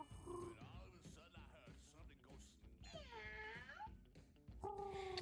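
Several high, drawn-out cat meows from the video game Mewgenics rise and fall over steady background talk and game sounds, fairly loud and close.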